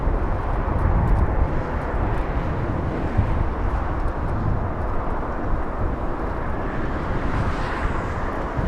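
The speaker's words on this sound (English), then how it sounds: "An aircraft very far away." A very distant aircraft near Los Angeles International Airport, heard as a steady, broad, low rumbling roar with wind-like noise, faint and continuous throughout with no voices.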